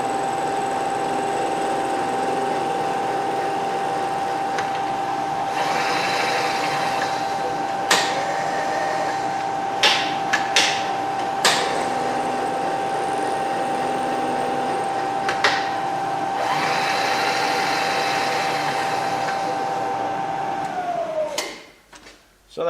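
End mill cutting a metal part, a steady droning whine held for about twenty seconds with a few sharp clicks and knocks along the way, winding down at the end.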